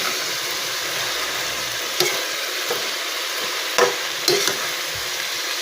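Vegetables for bihon stir-fry in a hot pan with a steady close sizzle, broken by a few sharp scrapes and clinks of a utensil against the metal.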